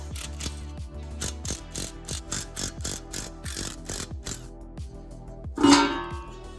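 Rapid ratchet clicks in short bursts come from a wrench loosening the windage tray bolts on an LS engine being fitted with a low-profile oil pan, with a sharper metallic clink near the end.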